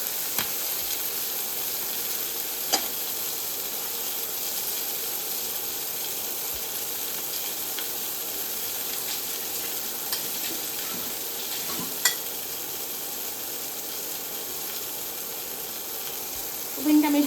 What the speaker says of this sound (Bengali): হালকা ফ্রাই করবো মাছটাকে আমি।